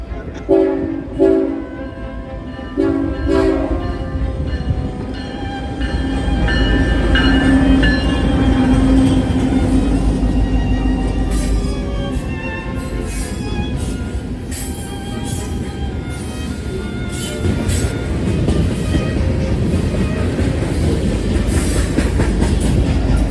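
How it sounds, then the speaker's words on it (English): A train horn sounds a few loud blasts, then a heavy loaded BNSF grain train rumbles past in Wichita with steady rolling clatter and occasional wheel squeal, close and loud. "This train was a loaded grain train"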